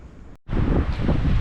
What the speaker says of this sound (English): It's a little bit windy outside